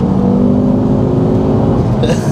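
A Ford Focus RS Mk2 turbo engine drones loudly from inside the car under acceleration, a strong steady tone that eases off near the end.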